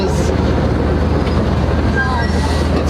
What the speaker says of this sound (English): So this is the train ride.